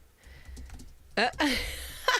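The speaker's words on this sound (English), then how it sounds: "I'm typing mine right here." Computer keyboard typing in short patters, faint and fairly close, with a person talking over part of it.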